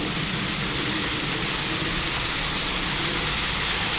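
Water rushes in an elaborate garden water feature near a waterfall, a steady, loud broadband wash that stays constant for the whole stretch without pauses or voices.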